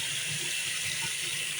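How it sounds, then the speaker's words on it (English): Water pours from a bathroom tap at full pressure, with a shower also running, making a steady, close, loud rushing hiss with no break. "Plenty of water coming out of this tap."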